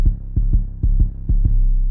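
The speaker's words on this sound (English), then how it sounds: "every time I would press a key back to back, it would distort" An 808 bass in FL Studio, played key after key without being cut off, gives deep booming hits about every quarter second; the overlapping notes rumble and distort, loud and with no voice over them.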